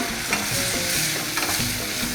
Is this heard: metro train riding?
no